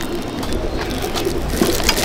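A racing pigeon coos softly nearby, a few low throaty coo phrases over a steady background of other birds and ambient noise.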